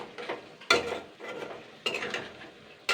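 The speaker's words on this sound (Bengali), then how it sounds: "জাস্ট এটাকে 1-2 মিনিট নাড়াচাড়া করে নেব" Ginger-garlic paste being stirred in a pan of egg curry: three distinct scraping strokes of a spoon against the pan, each a sharp attack that fades, with a soft sizzle underneath and no voices.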